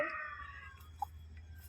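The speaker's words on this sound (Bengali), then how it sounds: "সেখানে শিয়াল ডাকছে দেখো" A jackal howls at dusk near a jungle, giving a faint, drawn-out, falling wail at the very start that fades into a quiet low hum.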